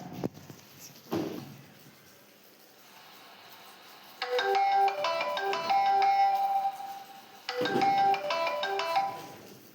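An incoming call rings on a mobile phone as a bright melodic ringtone. It starts after a few dull knocks, breaks off briefly, then resumes, loud and close, with no speech.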